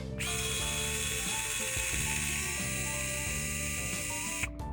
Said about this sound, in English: I'm going to undo this screw here.